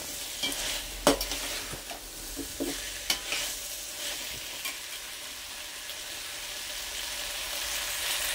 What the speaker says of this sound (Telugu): అందుకని ముందుగా కాస్త ఇలా ఫ్రై చేసుకోవాలి ఈ మసాలాలలో.